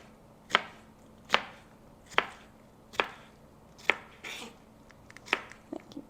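Knife rough-chopping food on a cutting board while making pork tacos: seven sharp, evenly spaced chops about a second apart, close and crisp, with quiet kitchen rustling between strikes.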